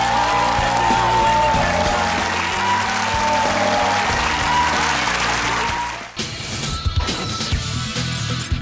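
A studio audience at a Korean lecture talk show gives two musical theater guests a warm round of applause: dense, loud clapping that holds steady for about six seconds, then drops off into scattered claps and room noise.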